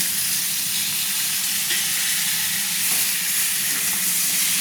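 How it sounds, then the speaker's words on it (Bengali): Chopped papaya pieces frying in oil in a wok where potatoes were just fried, a steady close broadband sizzle with faint stirring scrapes and no talk. "কেটে রাখা পেঁপেগুলো দিয়ে দিচ্ছি।"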